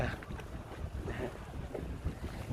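A boat sits at a pier in gusty wind, low rumbling buffets of wind on the microphone mixing with water sloshing and a faint motor drone.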